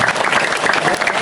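Loud, dense applause from a crowd at a Balinese temple comedy show, honouring the gamelan musicians, with many hands clapping in a steady close burst.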